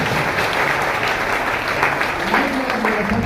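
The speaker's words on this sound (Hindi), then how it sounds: "तो अपने लिए एक बार जोरदार ताली जरूर बताइए" A seminar audience in Mirzapur breaks into loud, dense applause that holds steady from start to finish, with a voice briefly audible near the end.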